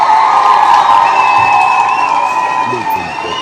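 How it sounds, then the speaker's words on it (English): Crowd at a live panel event cheering and applauding for a panelist, a dense, loud wash of cheers and whoops that holds steady and tapers slightly toward the end. "let's give him a round of applause, seriously"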